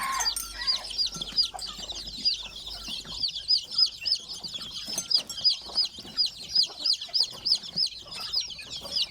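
Backyard chickens, chicks among them, cluck and peep steadily while being fed, close by, in a busy, overlapping chorus without talking.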